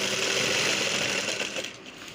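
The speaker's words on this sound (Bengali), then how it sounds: "দেখো আমি কি করে সেলাই করি" A motor-driven sewing machine hums continuously while stitching sacks, a steady close whir that eases slightly near the end.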